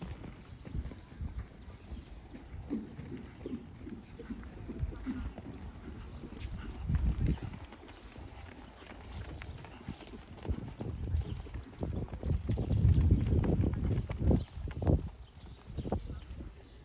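Horse trotting in a dressage test at working tempo in an arena, with steady rhythmic hoofbeats and a continuous rumble at moderate distance, and a voice calling instructions now and then.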